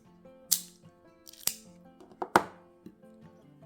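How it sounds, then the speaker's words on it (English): A cigar cutter snips the tip of a cigar in a series of sharp, close metallic clicks and snaps, several distinct cuts spaced over a few seconds with no talking. "we take our cutter, insert the tip of the cigar, and then just snip"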